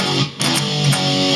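Distorted electric guitar rhythm riff, mixing chugging power chords with a quick open E: a dense, loud, close burst of chords with a short gap and rapid re-attacks, over about a second with no voices.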